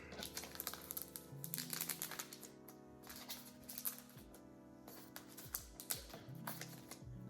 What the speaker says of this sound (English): let's start peeling off plastic